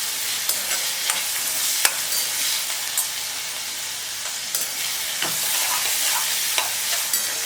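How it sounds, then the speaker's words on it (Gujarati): Chopped green onion and green garlic sauté in hot oil for a brinjal bharta, with a steady broad sizzle and occasional stirring clicks, close and continuous. "હવે અહીં આપણે ડુંગળીને એકદમ સરસ રીતે સાંતળી લેવાની છે."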